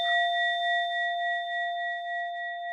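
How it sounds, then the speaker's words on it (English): A mindfulness bell rings once and its steady, pure tone sustains and slowly fades over a few seconds, heard alone in a quiet room. "I'll close with the sound of the bell"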